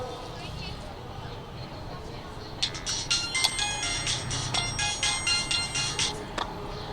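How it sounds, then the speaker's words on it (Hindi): A mobile phone ringtone starts partway through, chiming in a bright repeating melody over background chatter and room noise. "किसका फोन है?"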